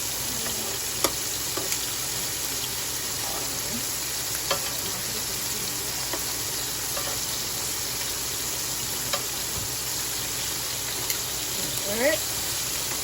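Shrimp and sausage fry in a pan for alfredo pasta, a continuous loud hissing sizzle with occasional clinks and light scraping as pieces are turned, a voice speaking faintly now and then.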